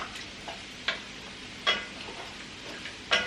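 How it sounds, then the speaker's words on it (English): Soft, steady sizzle of vegetables with sausage and potatoes in a pan for soup, fairly quiet, broken by a few sharp clicks or taps at irregular intervals. "I can hear my veggies sizzling a little bit."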